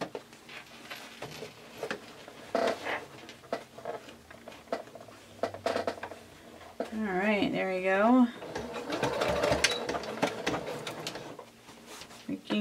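Top stitching a sewn bag on a sewing machine, its rapid mechanical whirring running in bursts behind a person talking, with a voice briefly sliding through a sung or exaggerated tone partway through.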